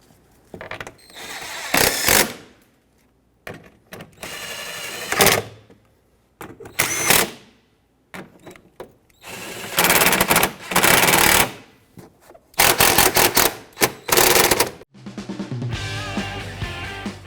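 A power tool tightens the fog light mounting bolts on a 2013-2018 Hyundai Santa Fe in repeated close, loud whirring bursts of a second or two, separated by short pauses.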